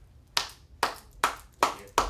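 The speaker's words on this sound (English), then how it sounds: "Can anyone clap right now? Just clap." Five sharp hand claps spaced evenly about every 0.4 seconds, each a crisp isolated slap with a short decay, close and moderately loud, no voices.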